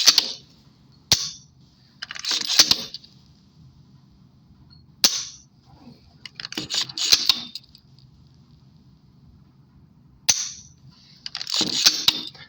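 Dry firing a handgun fitted with a Bull Moose Tactical flat trigger: three separate sets of sharp mechanical clicks and rattles spaced a few seconds apart, close up and alone in a quiet room.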